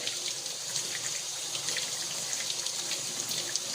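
Warm water running steadily from a tap into a sink while a polishing pad is rinsed for a Rupes polisher, a soft continuous hiss and splash with no speech.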